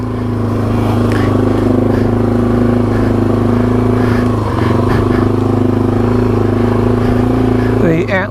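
A Yamaha TW200 dual sport motorcycle churns through mud in Michigan's Upper Peninsula, its engine running loud and close with a steady, labored drone, dipping and surging as it struggles, with a rider's voice breaking in over it.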